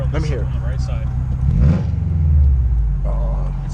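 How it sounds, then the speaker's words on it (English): Loud, low exhaust drone and rumble from a modified 380 whp Subaru WRX STI with an exhaust leak on the right side, heard from inside while driving at night, swelling midway as the engine pulls, with people talking over it. "The exhaust leak? You can hear it?"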